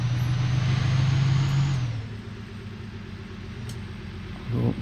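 A truck engine in Farming Simulator 19 drones loudly at first, then drops to a lower steady hum as it cruises, with a short rise in revs near the end.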